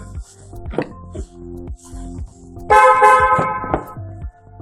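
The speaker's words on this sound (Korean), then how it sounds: "크락션도 이거 전자음으로 바꿔놓으신 거죠" A short electronic car horn beep from a SsangYong Tivoli sounds once, sharp and buzzy, among soft clicks and handling noises nearby.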